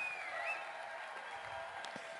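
Audience applause at a health expo, a steady wash of clapping from a crowd filling the room, moderately loud and sustained throughout with no one speaking over it.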